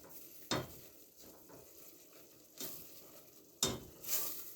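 Garlic and butter get stirred in a pan, with a soft sizzle under three distinct scraping strokes of a utensil against the pan, close and fairly quiet.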